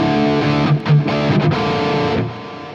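Electric guitar through a Mesa Boogie JP-2C amp with the presence boosted and no boost pedal, a dense distorted chord ringing steadily for about two seconds before cutting off into a short decay.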